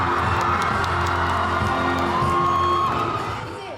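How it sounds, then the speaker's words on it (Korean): A large crowd at the Busan International Film Festival cheers and shouts loudly at an actor's stage greeting, with high-pitched screams and whoops, a dense roar that fades slightly at the end. "객석을 가득 채운 시민들이 뜨거운 함성을 지릅니다."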